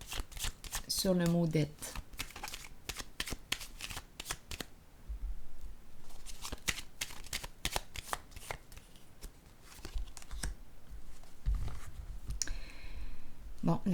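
Oracle cards being shuffled and drawn, with rapid crisp riffling and clicking card flicks in bursts, close and fairly loud, while a voice speaks briefly.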